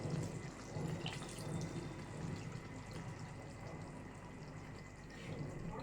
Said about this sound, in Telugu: ఇప్పుడు వాటర్ చల్లాను